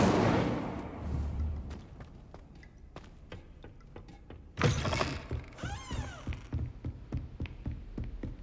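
In Hogwarts Legacy, the Incendio fire spell is cast with a sudden loud whooshing burst, surrounded by a series of sharp thuds and clicks and a rising magical shimmer.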